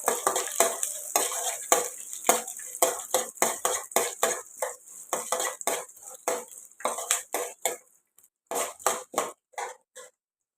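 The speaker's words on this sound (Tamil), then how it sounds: "இப்போ கொஞ்சம் கருவேப்பிலை போட்டுக்கலாம் கருவேப்பிலை பொரியட்டும்" Curry leaves, cashews and peanuts fry in a pan while a utensil stirs them. Each scrape and clink of the metal comes close and loud in a quick irregular rhythm, and a steady sizzle runs underneath; the stirring thins out near the end.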